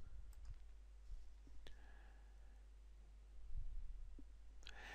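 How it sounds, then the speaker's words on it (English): A computer mouse clicks on an article title in the Joomla 2.5 editor. A few faint, sharp clicks are spaced out over a quiet room background. "Click on the title to edit."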